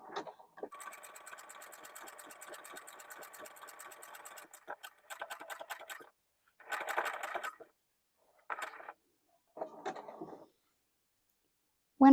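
A sewing machine stitches black fabric with a steady rapid whir for several seconds, then stops and starts in short bursts, close up.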